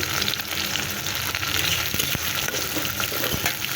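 Prawns frying with onion in a pan, a dense, steady, close crackling sizzle at a constant level with a few faint stirring knocks, with no talking.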